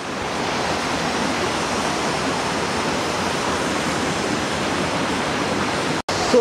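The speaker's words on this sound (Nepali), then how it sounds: "यहाँ दामी खोला छ कि सही सही नेचुरल यस्तो खोला देख्नै पाइँदैन" A natural river in Poland rushes steadily in a loud, broad, unbroken roar that fills the whole scene, with a brief dropout just before the end.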